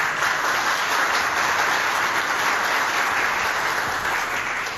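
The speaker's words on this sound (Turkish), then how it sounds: "bir alkış hak ettiklerini düşünüyorum" Audience applause at a party congress, a dense, steady wash of many hands clapping throughout, even in loudness and without speech.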